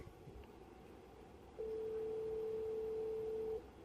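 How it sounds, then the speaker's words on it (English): A steady electronic telephone tone sounds for about two seconds at moderate level over a low background hum, starting partway through and cutting off cleanly, with no speech. "pardon my phone"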